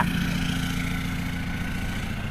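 A 2018 Toyota Hilux Revo Smart Cab 2.4 J Plus pickup idles with a steady, moderately loud exhaust rumble, even and unbroken throughout, with no voices.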